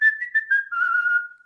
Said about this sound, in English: He does have a good whistle. It's a strong whistle. He has vibrato on it and everything.